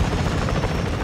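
A steady, dense helicopter rotor roar from the video game Call of Duty: Modern Warfare III fills the whole short stretch, loud and close with no pauses.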